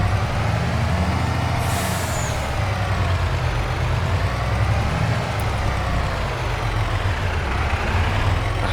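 A heavy truck in the Farming Simulator 22 video game, its engine idling with a steady low rumble, plus a brief hiss like an air brake release near the start.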